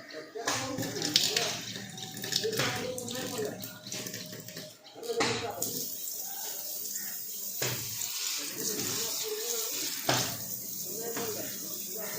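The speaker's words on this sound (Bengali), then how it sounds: "গাছগুলোতে একটু জল দেওয়া যাক" Water runs steadily and splashes while house plants are watered, a continuous rushing wash with some louder bursts, and speech can be heard over it.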